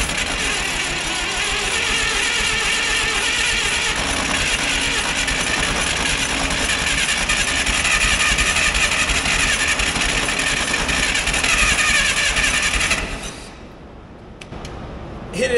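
Old CAT Towmotor forklift engine, left sitting for years, cranks continuously and sputters loudly for about thirteen seconds, firing weakly without catching, then drops off to near quiet.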